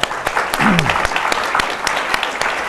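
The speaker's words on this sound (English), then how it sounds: "Let's take a round of applause." Applause from a conference audience at a transatlantic diplomacy panel, a burst of clapping lasting a few seconds with a brief voice heard over it.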